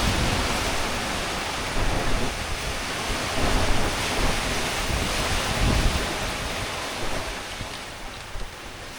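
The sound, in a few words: strong wind and big ocean waves during an Atlantic crossing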